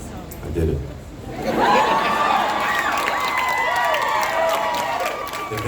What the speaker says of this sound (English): that's the kind of applause you get for picking up a guitar